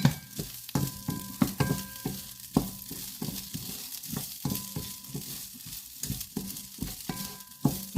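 Rice crisping in a pan over very low heat, a quiet sizzle broken by repeated scraping and stirring clicks of a utensil against the pan, with no talk.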